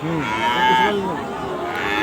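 Calves moo loudly nearby in long, overlapping bellows at a cattle market in Kurigram, Bangladesh, with faint crowd murmur underneath.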